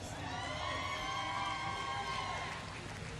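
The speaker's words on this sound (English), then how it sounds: "his American teammates in the grandstands cheering him on here" Spectators in the grandstands at a recurve archery World Cup final in Shanghai cheer an American archer, a continuous crowd roar with whoops and shouts and no break.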